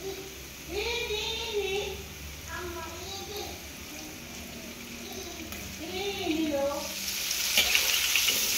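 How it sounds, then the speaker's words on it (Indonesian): Chicken pieces sizzle in hot cooking oil, a steady crackling hiss that swells louder toward the end while people talk over it. "Ini minyak gorengnya udah cukup panas saya rasa. Sudah boleh kita goreng."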